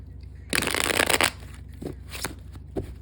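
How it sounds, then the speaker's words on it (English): A deck of tarot cards is shuffled by hand in a loud riffling burst, followed by a few shorter, quieter flicks and taps of the cards close by. "I will shuffle just a few more times, flip the deck"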